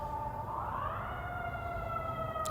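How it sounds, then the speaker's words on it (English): An emergency vehicle siren wails from a distance, one rising tone that climbs and holds steady, faint over low street background noise. "You hear the siren in the backdrop"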